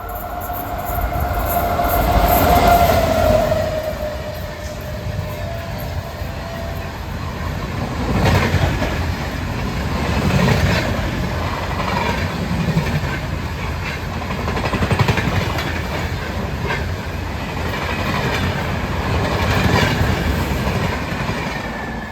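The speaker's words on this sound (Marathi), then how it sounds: "सो फायनल ट्रेन्स निघालेली आहे आपली." A Konkan Railway train runs past steadily and loudly, its rumble and wheel clatter sustained throughout, with a brief high squeal early on and no talking.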